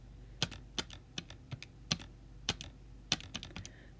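Keys tapped on a keyboard or calculator while entering numbers during a vectors math lesson, a dozen or so quick, close clicks in uneven bursts with no talking.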